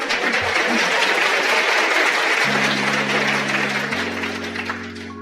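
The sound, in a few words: audience applause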